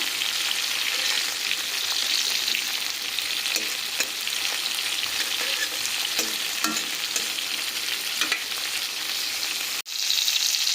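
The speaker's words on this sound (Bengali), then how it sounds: "চিংড়ি মাছগুলোকে খুব বেশি ভাজা করবো নি হালকা একটু করে লাল হয়ে গেলেই নামিয়ে নেবো" Prawns fry in hot oil for a Bengali malai curry, a loud, dense, continuous sizzle with occasional stirring scrapes, close to the pan, ending in a brief dip near the end; no voices.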